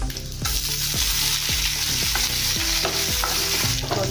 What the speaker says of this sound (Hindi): अभी हम लाल मिर्च डालेंगे सूखी वाली, और कड़ी पत्ता डालेंगे